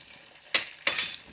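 Cluster beans and potatoes are tossed together into hot oil tempering in a home kitchen, giving two sharp, close bursts of sizzling and stirring. The second burst lasts longer and fades slowly.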